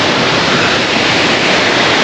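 Mallali Falls waterfall in Karnataka roars as a steady, loud broadband rush of falling water, close and unbroken, with no voices.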